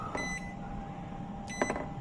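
A few short electronic beeps from an oven control panel as the temperature is set to 400 degrees, two brief tones at the start and near the end over a quiet kitchen background.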